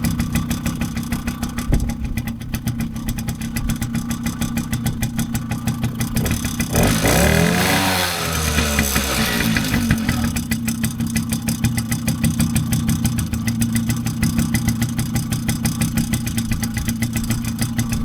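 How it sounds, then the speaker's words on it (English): A Suzuki LT50 quad engine, 26 years old, idles close by with the choke off, a steady, even small-engine putter that briefly surges and wavers in the middle before settling back to a constant idle. "It's running like new at the moment."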